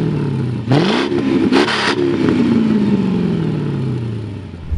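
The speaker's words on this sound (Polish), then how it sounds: "największy silnik w dzisiejszym zestawieniu o zawrotnej pojemności 5 litrów, czyli silnik o oznaczeniu" A Mercedes 5-litre M113 engine is revved loudly up close. Its pitch jumps with short, sharp blips of the throttle and then slowly falls back toward idle.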